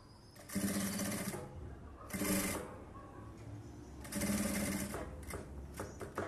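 A sewing machine stitches a blouse in three bursts of steady, rapid needle chatter, each lasting roughly a second or more and separated by brief pauses, sounding close and alone.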